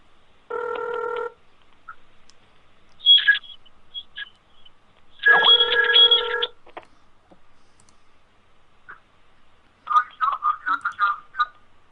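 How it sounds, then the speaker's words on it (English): An outgoing phone call rings over Skype with two separate bursts of a steady electronic ring tone. Scattered clicks fall between the rings, and a voice begins speaking near the end. "Let me call Troy on the phone here, folks"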